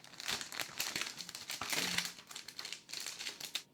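A Logitech MK850 wireless keyboard is drawn out of its retail packaging, giving a busy stretch of crinkling plastic and rustling cardboard close by, with brief pauses and no talking.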